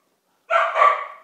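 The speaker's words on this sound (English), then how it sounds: "Here is the source of the bark." One loud, close dog bark breaks a silent pause and trails off into a short, slightly drawn-out yelp, heard alone with no voices.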